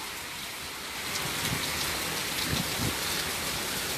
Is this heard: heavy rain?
yes